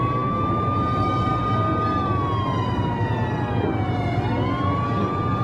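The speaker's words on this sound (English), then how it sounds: "Do you hear the sirens?" A police siren wails continuously in a film scene, its pitch rising and falling, with a steady rumbling background underneath and no voices.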